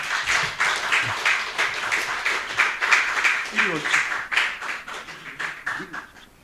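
A church congregation at a Sunday afternoon service claps in a steady, rhythmic patter to welcome a deacon. Voices mix in under the applause.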